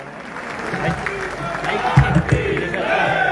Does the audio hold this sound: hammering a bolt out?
no